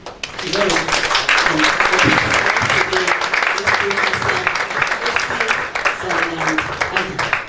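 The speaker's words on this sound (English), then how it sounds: "So can you please join me in giving her a resounding applause?" An audience at a regional children's book conference bursts into sustained applause, dense clapping lasting several seconds, while a voice speaks over it.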